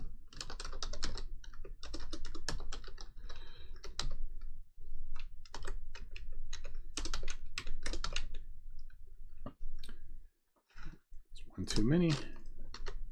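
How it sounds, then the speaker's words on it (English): Rapid clattering keystrokes on a computer keyboard, typed in close, steady bursts with short pauses, while someone speaks briefly over it. "I'm not quite good enough to talk and type at the same time here."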